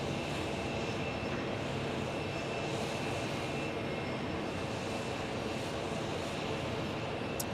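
Airplane at Phoenix Sky Harbor airport, a steady broad engine roar that holds evenly throughout, moderately distant with no voices.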